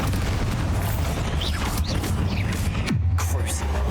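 A Bombarda blasting spell goes off in Hogwarts Legacy, a heavy boom that bursts out of a dense wash of game noise and drops into a low rumble afterward.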